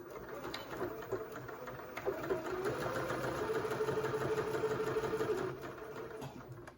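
A sewing machine runs steadily as it stitches around the quilted border of an advent calendar backed with wadding, a continuous moderate hum with slight speed changes that fades near the end.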